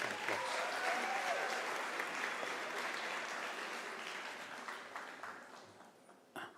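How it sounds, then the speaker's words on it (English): Audience at a University of South Africa autumn graduation ceremony applauding the graduates' parents; a broad wash of clapping that starts full and slowly fades, ending with a couple of sharp isolated claps. "Can we give our parents a round of applause?"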